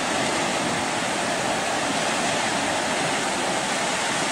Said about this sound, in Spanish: Este es el agua que llega a la calle